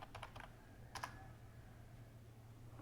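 Typing on a computer keyboard during a software setup, with a few quick clusters of keystrokes near the start and a brief burst around one second, soft and close over a steady low hum.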